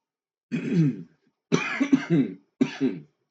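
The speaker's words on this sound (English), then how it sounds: "Sorry, I'm really sorry about the coughing." Three bursts of harsh coughing, close to the listener, with short pauses between them and no talking.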